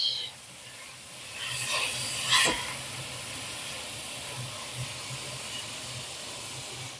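Onions browning in a pan for a Flemish beef carbonade give a steady, soft sizzling hiss throughout, with a brief louder crackle and scrape near the start.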